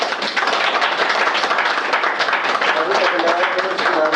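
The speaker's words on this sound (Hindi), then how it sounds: "ताली बजा कर हम भाई का स्वागत" A church congregation clapping hands in welcome for a pastor, a continuous loud patter of many hands with some voices mixed in.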